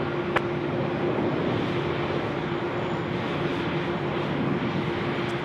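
An airliner taxis at Sydney Airport along the taxiways, a steady low engine rumble and hiss with a faint sustained tone, moderately distant and constant, with no talk over it.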